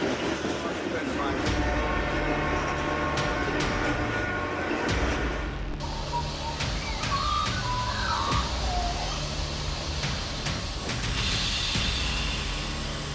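Oncoming train approaching where a moose stands feeding by the tracks, a loud continuous rumble and rail roar filling the whole stretch, with a faint horn-like tone in the latter part.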